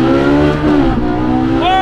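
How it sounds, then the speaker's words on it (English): A Ferrari 458 Speciale or McLaren 720S downshifts hard on the Susten Pass, loud close engine revs rising and falling through the gear changes, with a voice speaking over the engine. "This has to be some of the best downshifts ever."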